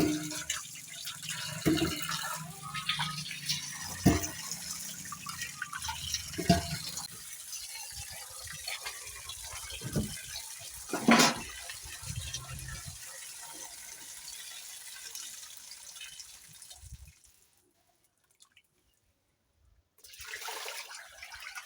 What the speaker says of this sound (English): I'm just rinsing.